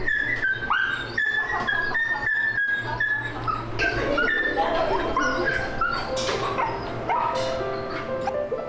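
Several puppies at an animal-friendly school in Kaohsiung's Yancheng district bark, yip and whimper in quick, excited bursts close by, with high-pitched whines rising and falling over a steady background hum.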